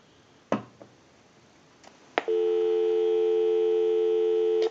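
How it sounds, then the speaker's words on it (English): Steady dial tone on a Stromberg Carlson wooden wall telephone converted for repair, a continuous loud tone that starts after a few clicks and handset knocks and then holds unbroken. "Go ahead and give you some dial tone."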